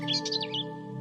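Birds twitter in a tamarind tree near a village school, a quick burst of several bright chirps heard clearly over a steady low hum.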